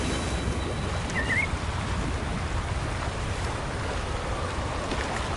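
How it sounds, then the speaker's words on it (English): Broad, steady rushing water from a big waterfall in the video game Wuthering Waves, a dense continuous roar with no talking. "Big waterfall."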